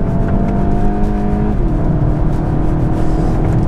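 A Mk8 VW Golf GTI's engine pulls hard in second gear from inside the cabin, a loud, steady whirring drone with a brief pitch dip partway through, heard alone without talk.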